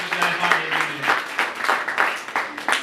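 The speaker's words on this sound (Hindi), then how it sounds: "आए इस्राएल के खुदा के लिए जोरदार तालियां" A church congregation claps loudly during a Christian sermon, the hand claps landing in quick, fairly regular bursts close by.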